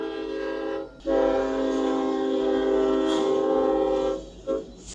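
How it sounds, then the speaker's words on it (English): A loud, sustained train horn blares for several seconds over the rumble of a train passing through a small town, then cuts off, leaving a short final toot and rolling noise. "I love a good train horn sound, to be honest."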